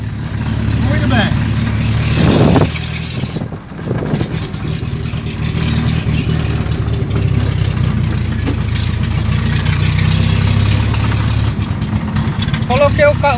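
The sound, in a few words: Volkswagen Voyage car engine idling and shaking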